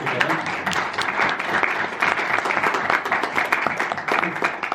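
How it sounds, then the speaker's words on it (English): Steady applause from a conference audience at a Davos crypto panel for the organizers, continuous crisp clapping at a constant level for several seconds with no one speaking over it. "So maybe a quick applause for putting this all together."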